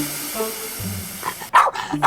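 A dog barks a few times near the end, short loud yaps after a stretch of quieter background tones.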